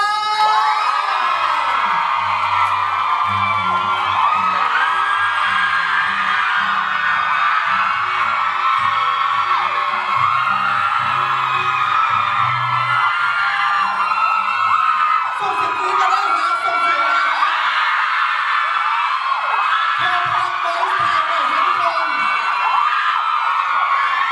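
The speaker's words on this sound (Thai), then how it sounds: "ส่งเสียงกรี๊ดดังๆออกมา" A large crowd at a press event for a 2023 concert in Thailand screams and cheers loudly and continuously, high-pitched shrieks and whoops blending into a constant roar throughout.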